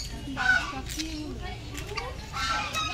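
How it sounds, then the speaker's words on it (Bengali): Geese in a park aviary at Naihati Swapno Bithi Park give loud, harsh honking calls in short bursts, heard against a busy background of other birds and faint crowd noise. "দেখো খালি রাজহাঁসগুলো কত জোর জোর আওয়াজ করছে"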